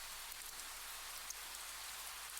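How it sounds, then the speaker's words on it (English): Rain drumming on a ceiling in the visual novel KIRA☆KIRA: a dense, steady hiss of falling water, constant and even, with no voices. "the sound of shower I thought I heard is the sound of rain on the ceiling"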